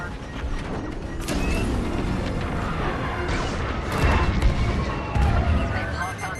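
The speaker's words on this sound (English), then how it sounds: "Tractor beam snared me." A tractor beam snares a starfighter in Star Wars Squadrons, a dense grinding, creaking mechanical roar with rising whines and crashes, voices talking over it.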